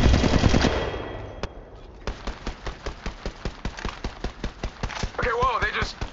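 Rapid bursts of weapon fire from the Apex Legends Mobile game ring out in sharp repeated shots, with a dense volley at first, then a steady rhythmic string of single cracks.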